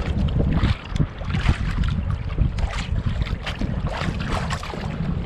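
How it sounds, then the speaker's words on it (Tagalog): Strong gusting wind roars across open water while a small boat is paddled on an overnight camping trip, a dense, steady rush of noise filling the clip without a break. "Malakas kasi ang hangin eh."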